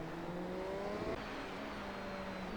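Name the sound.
race car engine downshifting under braking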